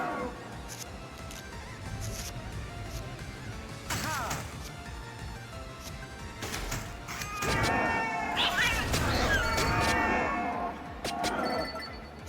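Cats meow and caterwaul repeatedly in a video game over a busy mix of game noise, with crashes and thwacks, and the meowing grows louder and denser toward the end.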